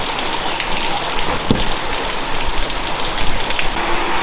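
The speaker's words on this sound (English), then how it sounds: "But, of course, it's raining." Steady rain falls outdoors on a path near a shed, a continuous hiss of drops on surfaces with a few sharper taps, fairly close and alone without voices.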